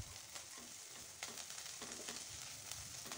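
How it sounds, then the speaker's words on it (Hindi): Garlic and green chilli fry in oil in a pan over a medium flame, giving a steady, close, loud sizzle with crackling bursts and occasional stirring throughout. "एबे मीडियम फ्लेम रे आपण मैंने भाजी नेबे, जेपरी कि रसुण लाल हबनी"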